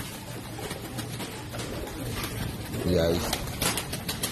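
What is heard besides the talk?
Teddy pigeon cooing and flapping wings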